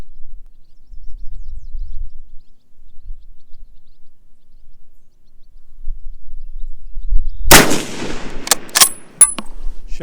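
A James River Armory 1903A4 rifle fires a single 175 gr match round at a 300-yard range, one sharp, loud crack after a quiet stretch, followed by a brief ringing echo and faint clicks.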